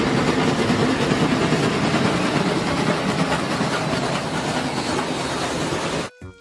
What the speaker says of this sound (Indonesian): di sini ada kereta api